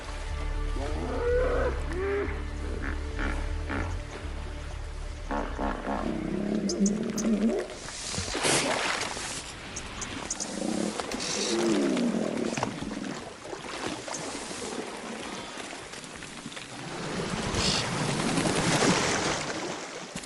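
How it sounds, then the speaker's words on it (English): Hippos bellow along an African river, deep booming calls rising in a few loud, drawn-out bursts over continuous wild ambience, carrying strongly as if from a distance. "They check in with thunderous bellows, audible from almost 2 kilometers away."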